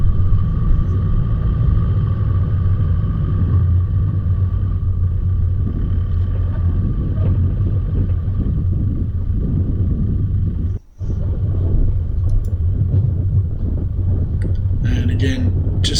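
A 4WD vehicle crawling over dry, hard ruts on Diggers Track in Lerderderg State Forest, Victoria, with a continuous low engine rumble and cabin drone heard from inside, briefly dropping out for a moment partway through.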